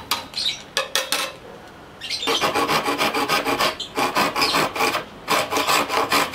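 A Hasston hand saw cuts through dry bamboo in quick rasping strokes, first a few separate pulls, then a steady fast rhythm of repeated back-and-forth strokes, close and loud.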